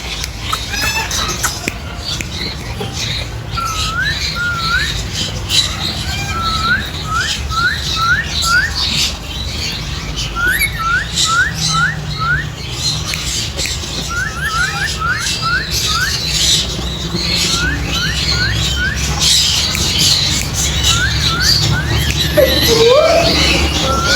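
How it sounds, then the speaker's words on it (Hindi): A yellow big talking lory gives rapid repeated chirping calls and squawks in short bursts amid a noisy bird market, with other birds and a voice talking over the din. "बहुत प्यारी लोरी है टॉकिंग करती हुई"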